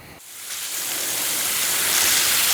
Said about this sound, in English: I just got to water it.